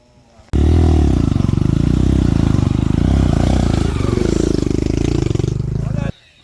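A dirt bike motorcycle on a trail during a Sunday ride in Bulacan, its engine roaring loud and close for about five and a half seconds, steady with slight rises and dips, and ending abruptly.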